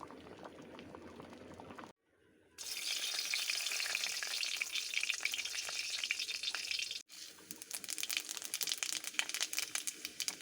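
Papad frying in a pan on a home stove during khichuri cooking: loud continuous hot-oil sizzle and crackle that drops out briefly, then surges back bright and dense, with a short break before a final crackling stretch.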